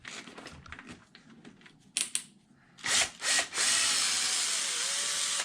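Power impact gun taking bolts off a Losi Super Baja Rey RC car, first scattered clicks and handling noises, then several short close whirring bursts followed by a loud sustained run that winds down at the end.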